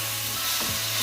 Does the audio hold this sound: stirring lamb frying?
yes